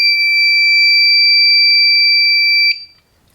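A fire alarm horn sounds a code 3 coded pattern, loud and steady, holding a piercing tone for nearly three seconds before cutting off into quiet.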